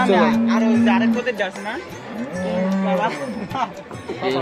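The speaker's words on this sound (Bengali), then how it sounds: "আর সবচেয়ে পাজি মহিষ" Buffalo lowing close by, a couple of long, loud drawn-out moos with rising and falling pitch, with other voices and farm noise around them.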